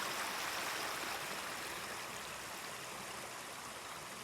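Water rushes out of a clogged sewer pipe as it is flushed, a continuous, fairly faint hissing flow like a small stream, steady throughout with no talking.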